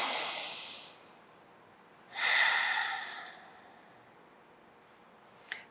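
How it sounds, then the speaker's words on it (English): Slow, deep breaths during a yoga flow: a long airy exhale fades out, then after a pause a fuller breath swells and trails off. A short sharp sniff comes at the end, close and fairly quiet, with no talking. "and we're breathing."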